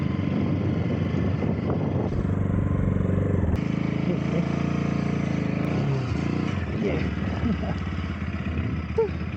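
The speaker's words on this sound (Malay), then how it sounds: "Sekarang ni aku cuba untuk nak naikkan motor aku sampai sana." Motorcycle engine running steadily close by as it is ridden up a slope to a hidden campsite in the Cameron Highlands, a continuous low rumble with a brief throttle change; a voice speaks briefly over it.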